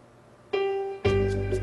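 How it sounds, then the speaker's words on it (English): Music from a CD starts abruptly with a sustained tonal note, then a fuller band of instruments enters at a louder level and continues steadily. "Now what you're hearing is a CD being played back, not the organ."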